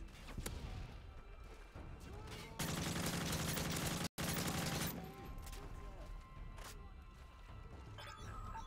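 Sustained gunfire rattles at a turret in Call of Duty: Modern Warfare 3, played in Spec Ops on Veteran difficulty, with a dense automatic burst in the middle flanked by scattered loud shots and mechanical thuds.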